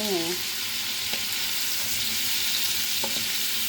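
Shrimp sauté in a pan for ginisang hipon, a loud, steady frying sizzle filling the whole stretch, with a couple of faint utensil clicks.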